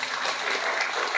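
Brief burst of congregation applause during a church sermon, a dense continuous clapping throughout the short span.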